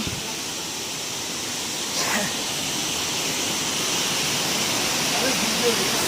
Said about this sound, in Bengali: দেখো ভাই কি সুন্দর লাগছে ঝর্ণাটা